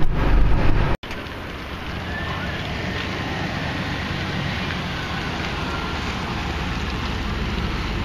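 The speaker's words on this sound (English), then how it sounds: "it's raining again" Rain falls steadily outdoors around a loaded truck, a dense continuous hiss with wind buffeting the microphone, after a brief louder rustle at the start.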